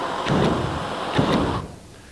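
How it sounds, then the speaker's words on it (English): Two short, loud whooshing bursts from an X15 personal flamethrower, each a quick roaring gust of fire, followed by a fading tail. "And you can fire little bursts."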